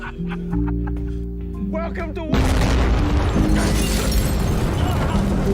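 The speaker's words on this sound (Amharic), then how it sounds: "ጭንቅላቱን ከኤሊዋ ላይ በሚያነሳበት ጊዜ በቦታው ከፍተኛ ፍንዳታ ተፈጥሮ ሃንክ ጓደኞች በሙሉ ይሞታሉ" A large explosion in an Ethiopian Amharic film erupts suddenly midway, a loud sustained boom and rumble that follows a stretch of steady tones and brief voices.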